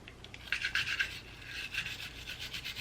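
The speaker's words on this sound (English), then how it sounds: "I'm just gonna brush out anything that might come loose, any dirt and grime" An OTIS cleaning brush scrubs dirt and grime from a duty gun, giving close, steady bristly rubbing strokes in quick repeated passes, alone with no talk.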